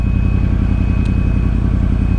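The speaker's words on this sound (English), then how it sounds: "the my 1098 sounds absolutely insane with the Termagnoni exhaust" A Ducati 1098 sport motorcycle fitted with a Termignoni exhaust runs close by with a loud, steady, throbbing engine note made of rapid even pulses, alone without any talking.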